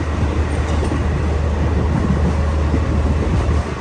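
The Srinagar to Baramulla train in Kashmir runs along the line, a loud, steady low rumble and rolling wheel noise that holds without a break and eases slightly at the very end, with no voices.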